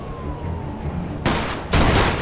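Gunfire in the video game Mafia 2, two loud sustained bursts of rapid automatic fire that swell in sudden blocks over a continuous game backdrop, with no talking.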